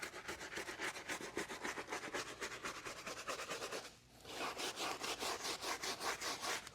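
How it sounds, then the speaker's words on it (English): Stiff brush scrubbing a tire coated in wheel cleaner, a steady fast back-and-forth rasp close to the mic, with a brief pause near the middle before the strokes resume, no talking. "let's come in, start scrubbing this down"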